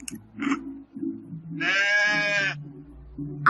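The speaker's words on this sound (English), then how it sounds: "A sheep." A sheep lets out one long wavering bleat, close and clear, set among softer low farmyard sounds and faint calls before and after.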